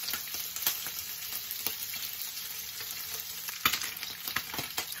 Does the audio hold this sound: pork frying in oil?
yes